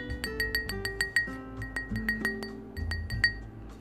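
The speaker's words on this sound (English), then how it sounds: "make sure you tap the glass." Wine glass tapped repeatedly, producing a run of bright clinking rings at an irregular rhythm over a low musical hum, close and fairly clear with no talking.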